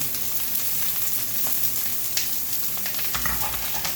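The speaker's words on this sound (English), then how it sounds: "that's how you want it to sound, so we be frying it" Loud, steady sizzling and crackling of catfish frying in hot oil, continuous and close, with occasional pops.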